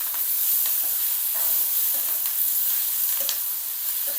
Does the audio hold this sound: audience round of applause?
no